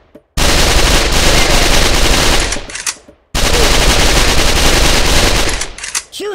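Loud, sustained automatic gunfire from the shooting range in the mobile game Kick The Buddy, two long continuous bursts separated by a brief gap, each ending with fading echoes.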